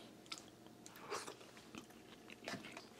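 Bites into cooked lotus root from an instant hot pot, several faint, close crunches spread over a few seconds.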